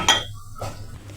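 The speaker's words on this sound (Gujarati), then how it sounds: "હવે તેને આમાં નાખીને ખાંડી લઈશું આ રીતે તેને ખાંડી લેવાના દસ્તા વડે" A pestle strikes diced tomatoes in a mortar for red chilli chutney, giving one sharp clinking knock followed by a softer thud.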